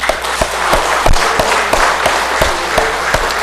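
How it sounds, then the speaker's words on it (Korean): Congregation clapping together during a Sunday church service, a dense steady patter of many hands with sharper claps standing out at irregular intervals, moderately loud and close throughout. "옆 사람 우리 박수 한번 하세요."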